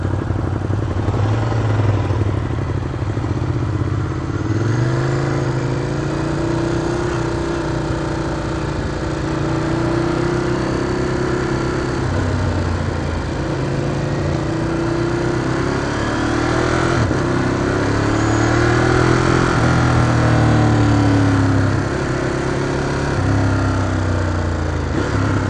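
A motorcycle engine running steadily and close for a long stretch, idling with occasional revs that swell and fall, loud and continuous with almost no talk over it.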